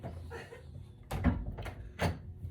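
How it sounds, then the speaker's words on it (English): A door swings shut indoors with a soft thump followed by a couple of quieter knocks and clicks as it settles, faint and close, in an otherwise quiet room. "so can y'all close the door?"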